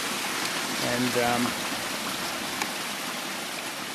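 Creek water in the Cabinet Mountains rushes steadily beneath a rock formation, a dense continuous wash close by, with a brief murmur of voice partway through.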